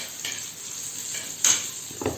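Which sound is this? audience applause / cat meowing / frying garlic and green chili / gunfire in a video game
frying garlic and green chili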